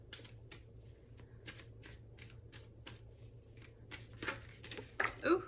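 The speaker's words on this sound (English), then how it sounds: "Oh, they shuffle beautifully." A Haindl tarot card deck is shuffled close by in a series of quick, soft papery riffles, the bursts growing louder and sharper toward the end.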